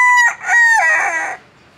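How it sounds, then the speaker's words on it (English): A cockerel carried in a bag at a night market in Mysore, India, gives one loud, close crow with a bright, wavering cock-a-doodle-doo lasting about a second and a half, with no talk over it. "Cockerel in a bag."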